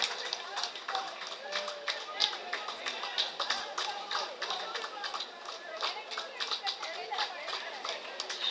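An audience at a school alumni meet applauds the English teacher with a dense, steady wash of many hands clapping close by, holding at an even level throughout with a low murmur of voices underneath.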